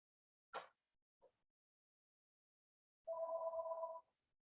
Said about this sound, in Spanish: Voy a atender el teléfono, no sé si lo están escuchando, pero suena insistentemente